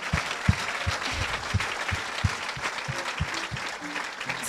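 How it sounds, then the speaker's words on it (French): A church congregation applauds and cheers the Lord during a healing testimony: steady, dense clapping fills the room, with regular low thumps running through it, and no voices stand out. "on peut vraiment acclamer le Seigneur"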